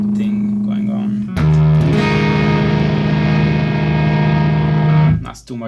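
A sustained distorted electric guitar chord through a Neural DSP Quad Cortex rings out with a gritty, compressed breakup tone, then cuts off abruptly.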